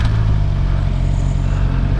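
Stock Suzuki GSX-R 750 sport motorcycle on a road ride, its engine producing a steady, loud, close low rumble that holds even throughout without breaks or voices.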